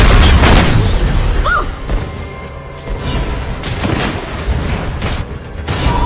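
Turret-destroyed explosion in the mobile game Honor of Kings, a heavy boom opening into a dense, rumbling battle din of layered blasts and effects that stays loud throughout.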